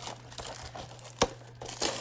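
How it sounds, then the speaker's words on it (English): Cardboard boxes of Illusions trading card packs are opened, giving soft crinkling and rustling with one sharp tearing crack midway, close and fairly quiet over a low steady hum. "I'm going to open these top two boxes so they're not just chilling in the way"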